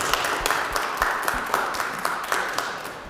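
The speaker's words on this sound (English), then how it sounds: "Let's give Karl another round of applause." Audience applause at an evening lecture event, steady dense clapping from many hands filling the room, moderately loud and sustained throughout without speech over it.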